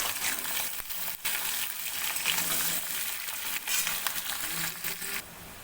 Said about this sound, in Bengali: পেঁয়াজটাকে আমি বেশ গোল্ডেন করে ভেজে নেব